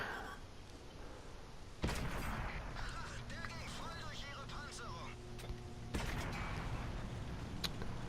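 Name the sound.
Panther tank gun firing, from World of Tanks video game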